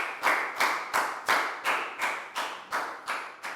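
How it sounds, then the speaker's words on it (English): Small group of children in a Year 4 classroom clapping together in a steady, even rhythm, about eight sharp unison claps spaced roughly every half second, close and fairly loud with no talking. "High five and a big round of applause for Lakau,"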